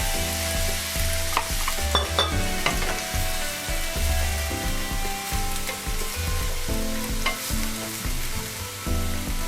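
Scallion greens and chicken stir-frying in a pan: constant close, loud sizzling with intermittent scraping and clinking of a utensil being tossed through the food.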